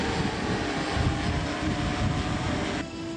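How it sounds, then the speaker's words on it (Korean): A black patrol drone takes off and flies over a sandy beach, giving a steady, loud, buzzing motor whir that holds evenly for a few seconds, then drops slightly near the end; no talk. "검은색 순찰 드론이 백사장에서 이륙하더니"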